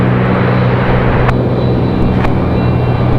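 A FedEx Boeing 767-300 arrives at Raleigh-Durham International Airport, a loud, steady, broad jet roar with a low engine hum that fills the whole stretch without letup.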